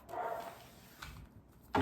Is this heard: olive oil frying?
no